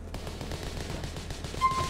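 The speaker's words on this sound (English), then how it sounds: "Ah, shotgun, beautiful." Rapid bursts of gunfire from a shotgun in the GTA IV game, a dense run of repeated blasts over a steady low rumble, fairly loud throughout with a brief tonal whine near the end.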